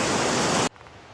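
Loud, close rushing of river water at a trail crossing, a dense steady roar that cuts off abruptly after about two-thirds of a second to a quiet background hiss.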